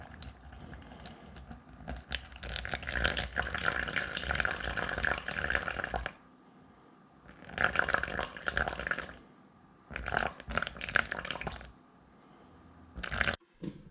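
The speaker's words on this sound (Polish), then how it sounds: "dolewamy 130 ml letniej wody" Lukewarm water pours in several bursts into a container on a scale for sourdough bread dough, a steady splashing stream that stops and starts three times with quiet pauses between.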